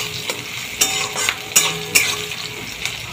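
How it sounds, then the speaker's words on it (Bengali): Onions fry lightly in a pan with a continuous close sizzle, punctuated by several sharp clinks and scrapes of a utensil stirring against the metal, with no talking. "একটু পেঁয়াজটা হালকা করে ভাজা হতে থাক"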